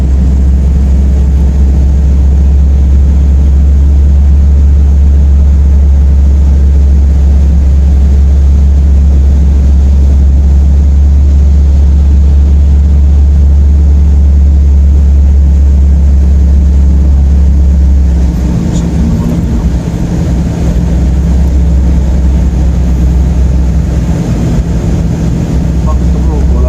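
Heavy low rumble of vehicles pushing through deep floodwater on a Riyadh street during a downpour, steady and loud throughout with wind buffeting the microphone and a brief dip near the end; people talk over it.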